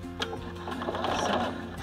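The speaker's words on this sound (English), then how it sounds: "And I'm going to sew all six sides together the same way." A sewing machine stitches together the six curved fabric pieces of a ball, running in a steady, close whir for a short burst with no talk.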